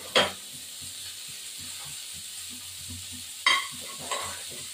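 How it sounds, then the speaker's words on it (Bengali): Whole cumin seeds dry-roasting in a pan make a faint, light crackle under a quiet hiss, punctuated by two or three sharp scraping or clinking stir strokes, with no voices. "এই যে গোটা জিরেটাকে ভেজে আমি গুঁড়ো করে রাখছি"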